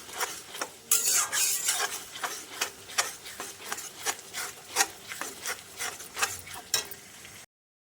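A spatula stirs and scrapes masala spice paste for chicken in a pan, making rhythmic, repeated rasping strokes with occasional sharper scrapes. The sound is close and moderately loud, and nobody speaks.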